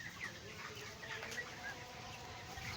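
Faint broiler chickens, 32 days old, cluck and chirp softly in a poultry shed, with brief squawks and a low wash of background noise.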